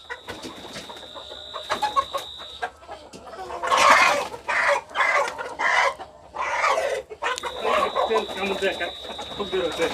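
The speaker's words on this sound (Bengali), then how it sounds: "এটাই আমাদের টাইগার জাতের মুরগি" Tiger breed chickens on a poultry farm cluck and call close by, mixed with people talking through much of the scene.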